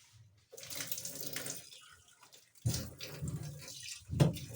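Water pours from a tap into the wash tub of a twin tub top-load washing machine, a steady splashing rush that stops briefly and then resumes louder, close by with no talking.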